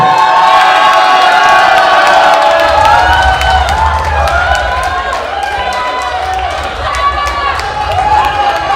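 A large, lively crowd cheers and shouts steadily at a 50th birthday party competition, loud and close throughout, with voices calling out over a low rumble.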